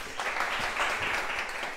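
Brief, fairly soft applause from a seminar audience at a university physics colloquium, a short even patter of hands clapping with no voices.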